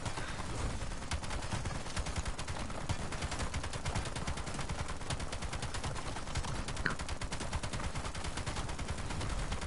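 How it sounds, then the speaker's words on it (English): Relentless fully automatic shotgun fire in a chaotic zombies video game, a dense, unbroken stream of loud blasts hammering on for the whole stretch with no talking. "You know how all the shotguns are like fully auto?"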